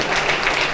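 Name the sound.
audience applause welcoming the managing director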